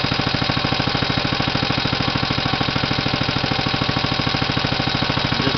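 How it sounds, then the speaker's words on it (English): Up close, a 1937 Briggs & Stratton Model H engine putters at a quick, regular pace, each firing pulse distinct and the loudness unchanging over several seconds, with no speech. "just like any old Briggs & Stratton, this one took less tinkering than most, but they always fire up."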